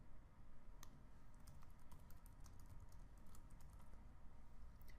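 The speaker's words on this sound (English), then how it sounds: "Then, type in the text you want for the navigation." Rapid typing on a computer keyboard, close and steady, with light uneven key clicks running continuously for several seconds over a low background hum, no voices.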